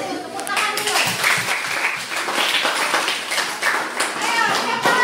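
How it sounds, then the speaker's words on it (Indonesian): Students applaud together in a classroom, a steady, dense patter of many hands that fills the room for several seconds, with voices mixed in underneath. "Tepuk tangan dulu."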